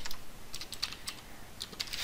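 Typing on a computer keyboard, a quiet, close-up run of light, irregular key clicks over roughly two seconds with no voices.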